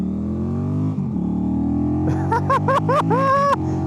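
A Honda Rebel 1100 motorcycle accelerating hard, a loud, steady engine drone that climbs through several quick gear changes and rising revs, heard close up from the rider's position.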